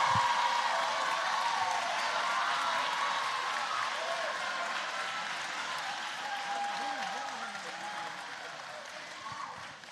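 Sustained applause from a seated audience at a middle school graduation ceremony in a large hall, a dense wash of clapping that holds steady and slowly tapers over about ten seconds, with voices faintly beneath it.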